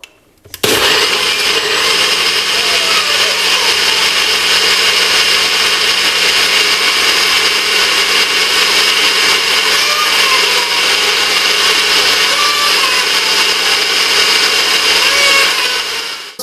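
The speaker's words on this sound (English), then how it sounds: "I'm just going to blend it." A blender whirs continuously and loudly while blending an acai berry bowl, a steady high motor whine that starts abruptly and runs without pause, with no voices over it.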